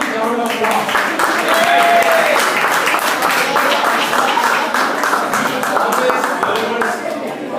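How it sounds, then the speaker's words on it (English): An audience at an 80th birthday party claps in a warm, sustained burst of applause, with a voice talking over the clapping throughout. "please give him a huge round of applause"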